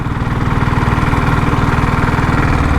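A diesel Royal Enfield Bullet motorcycle engine runs in top gear at low speed, a steady, loud, close throbbing drone with a rapid regular pulse that holds constant throughout, no voices.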